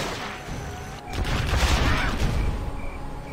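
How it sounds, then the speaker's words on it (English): Rapid cannon fire from a quad cannon unit in the real-time strategy game Command & Conquer Generals Zero Hour, a dense burst of booming shots rising and fading amid game battle noise, fairly loud. "Quad cannon."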